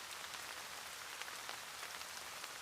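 Rain falling in an anime scene, a soft continuous patter of drops on surfaces, faint and even with no talk.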